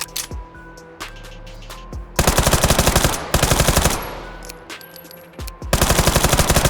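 A Call of Duty: Black Ops III gun fires full-auto in the VR shooter H3VR, loud close bursts of rapid shots separated by short pauses and quieter handling clicks.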